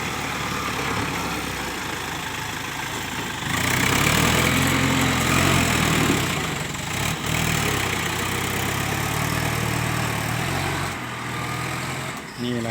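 A Kubota M7040 tractor grading soil uphill with a blade, its engine a loud, continuous diesel drone that rises in strain midway and stays close throughout.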